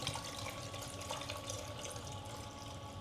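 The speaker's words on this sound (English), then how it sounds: "So all we're going to do is pour some water in here." Water poured from a bottle into an egg incubator, a steady faint trickle and splash that runs without a break, heard alone.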